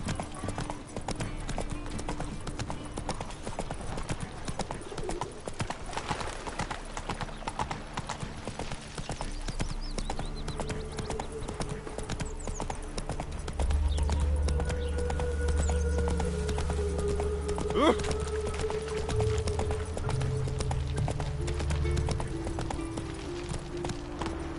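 Roach, a horse in The Witcher 3: Wild Hunt, galloping with steady rhythmic hoofbeats clip-clopping throughout, accompanied by game music and ambient sounds, with a brief whinny partway through.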